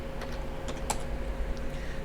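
Typing a command on a computer keyboard, a quick run of light, close key clicks of uneven rhythm over a low steady room hum.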